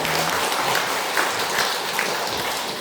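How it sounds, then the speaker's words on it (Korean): A church congregation claps in welcome during a Sunday service, a full, even patter of many hands throughout, close and moderately loud, with a few sharper claps standing out. "환영의 박수 하겠습니다."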